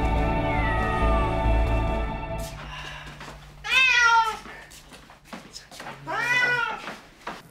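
A cat meows twice, clear and close, with a long drawn-out cry after a short pause; a steady hum and faint background noise run beneath.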